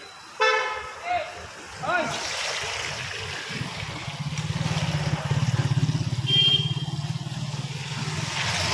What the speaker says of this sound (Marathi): इथे जरा गाड्यांचा प्रॉब्लेम होतो, ट्रॅफिक जाम होतं इथे